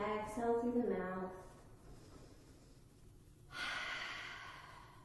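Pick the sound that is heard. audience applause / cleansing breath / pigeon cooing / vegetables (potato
cleansing breath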